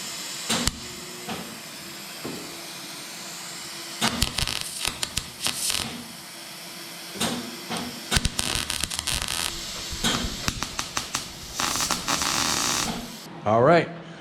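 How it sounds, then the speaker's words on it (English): Welding on a rusty metal panel, heard as repeated crackling, hissing bursts of the arc in short and longer runs separated by pauses, fairly close and moderately loud. "Alright, started welding."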